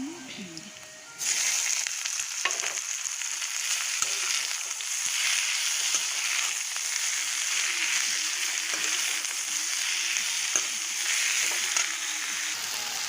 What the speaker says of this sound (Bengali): এখন আমি এখানে শাকগুলো দিয়ে দেবো